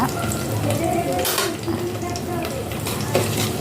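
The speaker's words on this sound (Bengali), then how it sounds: "ভালো করে একটু লাল করে ভেজে নিচ্ছি" Black cumin, dried red chilli and garlic paste fry in oil in a pan, a soft sizzle under busy clinking and scraping of a spoon against the pot.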